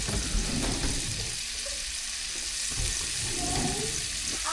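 Large onion pieces hit a hot kawali and sizzle steadily, a soft continuous frying hiss with faint clinks, heard close and fairly quiet.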